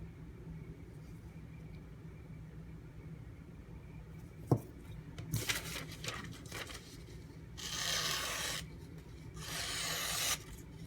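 A knife blade is sharpened on a Bull Thistle sharpening stone, giving two long, close grinding strokes near the end after a few light clicks and taps over a low background hum.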